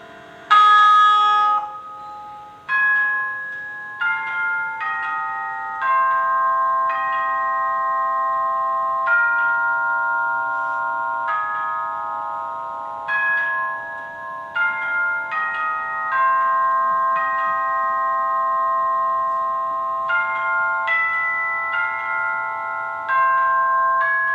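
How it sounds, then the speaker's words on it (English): Bell-like tones from a folk piano with lighted floor keys played by stepping, sustained chiming notes overlapping into a slow melody, loud and clear with no talking. "When you step on each key, they light up. And if you know how to play the piano, then you can play the folk piano."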